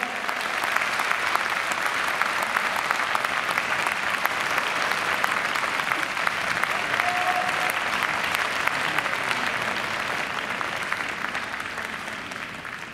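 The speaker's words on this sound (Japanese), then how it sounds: "会場の皆様、お二人に大きな拍手をお送りください。" An audience at a Latin American dance championship award ceremony in Japan claps steadily, with dense, even applause filling the hall for several seconds without letting up.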